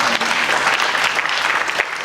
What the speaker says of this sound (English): big round of applause for James and his father